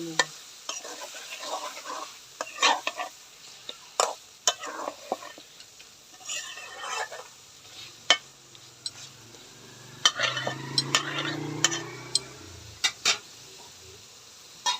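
Chicken being stirred with spices in a pan for a chicken curry, giving intermittent scraping and clinking strokes over a low sizzle, with a steady stirring passage near the end.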